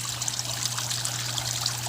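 Water trickles steadily through the aeration pipes of a large home-built aquarium, a faint, even dribble over a low electrical hum.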